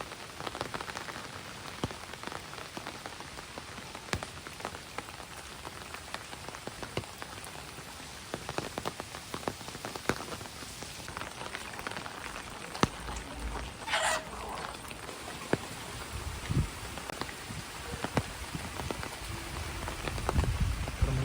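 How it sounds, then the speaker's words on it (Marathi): Rain patters steadily on surfaces in flooded Kharoshi village, a dense spray of drops with a few sharper hits, while a chicken clucks faintly at one point. "सलग तीन चार दिवस पाऊस कंटिन्यू चालूच आहे"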